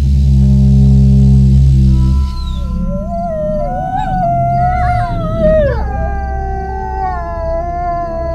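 A Doberman howls in long, wavering tones with rising and falling pitch, close and loud, after a brief burst of low rumbling at the start.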